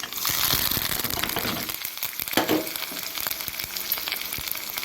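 Steady, loud sizzling of onions sautéing in hot oil in a pan for wheat rava upma, with occasional scraping from stirring throughout.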